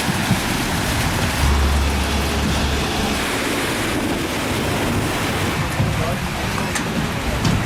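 Strong southwest lodos wind roars across the microphone while waves crash and surge steadily, loud and continuous throughout, as the sea washes over the shore.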